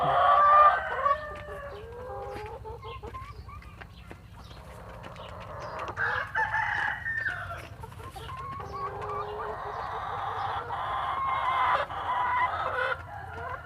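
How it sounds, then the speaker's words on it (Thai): Laying hens cluck and call while foraging for food around a farmyard, a busy, fairly close chorus of clucks and squawks with a low steady hum beneath. "ไก่ครับไก่มันก็ต้องเคี่ยหากินครับ"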